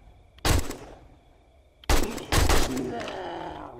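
AK rifle fire in 7 Days to Die, one loud blast followed by a longer burst of rapid shots with a trailing rumble, heard up close inside an underground facility.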